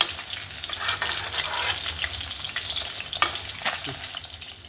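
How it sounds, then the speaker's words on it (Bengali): Koi fish frying lightly in oil in a pan for tel koi, a dense continuous sizzle with spatula stirring and clatter, close and steady throughout with no talking. "মাছটা কিন্তু কড়া করে ভাজবো না, হালকা ভেজে নেব।"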